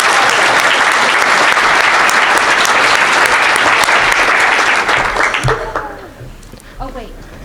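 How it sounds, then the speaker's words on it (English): A conference audience at the BSides DC 2019 closing gives a loud, sustained round of applause, which fades out near the end as a voice starts speaking. "a huge round of applause to the defunct car salesman"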